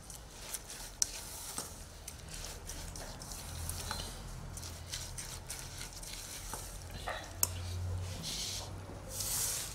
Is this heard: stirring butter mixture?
yes